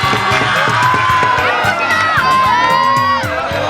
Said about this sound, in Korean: 멋진 공격 시범에 관중석에서는 탄성과 박수가 절로 나옵니다.